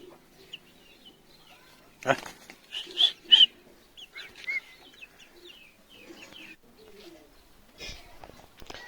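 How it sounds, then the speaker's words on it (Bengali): Pigeons flock in to be fed, giving scattered soft coos and brief flutters in a mostly quiet outdoor space, with a few louder bursts of movement. "তো গ্যাস পায়রাগুলোকে খাবার দিচ্ছি দেখেন তো পায়রাগুলো সব চলে এলো"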